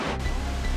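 A rain-swollen mountain stream in flood near a highway bridge in Nepal rushes with a dense, steady roar of water, loud and continuous with no voices over it.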